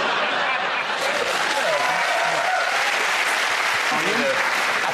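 Studio audience of a comedy panel show breaking into sustained, dense applause, a steady wash of clapping with a voice faintly audible beneath it.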